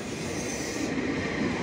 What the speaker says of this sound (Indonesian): Lokomotif berpapasan